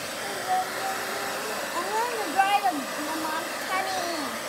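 A hair dryer blows steadily while drying a family dog's belly, a constant close whoosh with people talking briefly over it.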